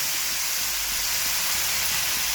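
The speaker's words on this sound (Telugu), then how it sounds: "అల్లం వేస్తే అల్లం ముక్క నూనెలో గోలియాలి, మంచిగా ఇట్లా వేపాలి" Ginger pieces frying in oil, a continuous dense sizzling hiss that holds steady and fairly loud throughout, close up with no voices.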